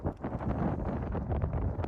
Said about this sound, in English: it was very cold and windy